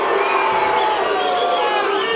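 A large boxing crowd at a world title fight roars and shouts in displeasure, a loud continuous wash of voices with rising jeers, heard alone without commentary.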